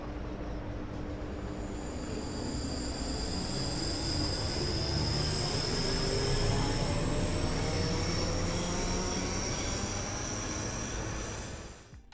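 The steady electric whine of a train's traction motor in Train Sim World 2 on the Cathcart Circle Line, humming and rising in pitch over a rumbling rail bed.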